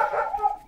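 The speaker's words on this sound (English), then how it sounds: "Excuse the dog barking." A dog barks once indoors in a home, a short close yelp that trails off quickly with no voices over it.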